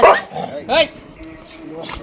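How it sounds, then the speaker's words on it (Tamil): Street dogs bark outdoors on a town street in Thoothukudi: two sharp barks about three-quarters of a second apart, followed by softer yips, with voices in the background. "எல்லா நாயும் குலைக்குதா"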